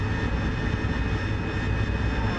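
A steady jet aircraft engine roars in DCS World, a constant broadband drone with a faint whine on top, loud and unbroken with no speech.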